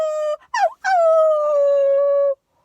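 A human voice imitates a dog howling in a storybook reading: a short wavering cry, a brief break, then one long, drawn-out, tonal howl that slowly falls in pitch before stopping abruptly, close and clear against silence.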